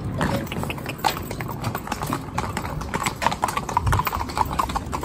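Green four-in-hand team of young horses pulling a carriage past tractors and trucks toward town, their hooves clip-clopping in a steady overlapping rhythm on the road, close and fairly loud.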